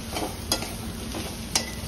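Soybeans dry-roasting in a pan over a medium flame, a soft steady crackle with two brief scraping stirs, close by and with no voices.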